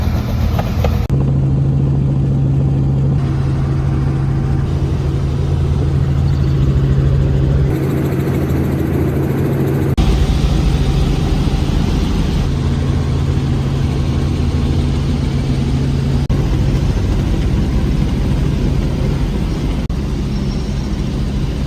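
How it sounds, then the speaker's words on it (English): A helicopter ride over Mosi-oa-Tunya waterfall, heard from inside the cabin as a loud, steady engine and rotor drone with a low hum that holds throughout and shifts in tone a few times. "I took a helicopter ride over Moisuotunya, and it was quite interesting."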